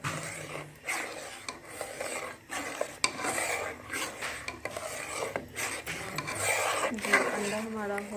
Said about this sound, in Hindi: अब हम इसमें अंडा डालेंगे और इसे आस्ता आस्ता करके हिलाते रहेंगे